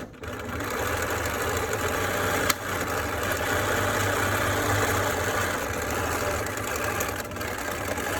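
A sewing machine runs steadily and loud for several seconds, back stitching while assembling a homemade N95-style face mask, with one sharp click partway through and a brief stop near the end.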